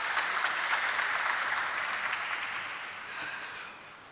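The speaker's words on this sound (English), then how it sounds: "Let's have an applause for him" Formal corporate event audience claps warmly in a dense, even round of applause that gradually thins and tapers off over about four seconds, no voices over it.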